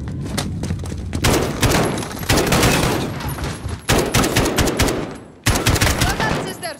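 Automatic gunfire in a Call of Duty: Modern Warfare campaign ambush, loud close bursts of rapid shots that cut off twice and resume, with brief voices underneath.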